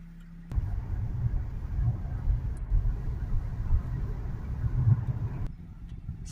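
A Jaguar XJ 3.0 diesel rumbles along on a road drive, a steady low engine and road drone heard from inside the car, then fading out abruptly.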